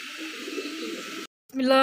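Pigeons coo softly in a loft where birds are kept for sale, a low steady murmur that breaks off briefly before a louder burst of cooing and noise returns.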